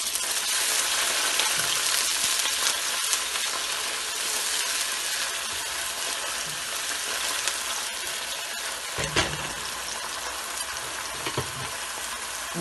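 Garlic, ginger and onion sizzle in a hot pan with a loud, continuous hiss, marked by a few brief stirring scrapes and crackles partway through.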